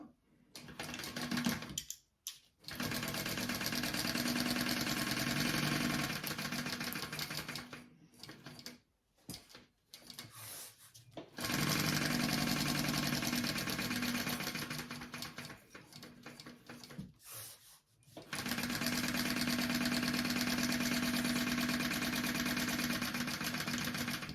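A sewing machine stitches a seam in three long, steady runs of fast, even whirring and needle chatter, broken by short quiet pauses, heard close and moderately loud.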